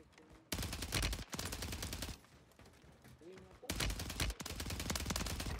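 Rapid SMG gunfire in the online shooter Warzone 3 on Rebirth Island, two loud sustained automatic bursts separated by a quieter gap with faint game sounds.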